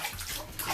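Hot water running into a bathtub, a steady broadband rush with sloshing, close and alone without talk.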